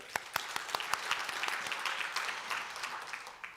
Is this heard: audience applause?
yes